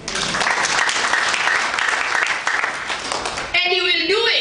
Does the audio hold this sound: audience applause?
yes